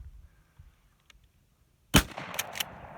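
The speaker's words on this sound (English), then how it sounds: "going to be shooting a number 6 shot. These are Remington game loads." A single loud shotgun blast firing Remington number 6 shot game loads through a dirty gun, sharp and close, followed by a short rumbling echo and a few rattling handling clicks after near silence.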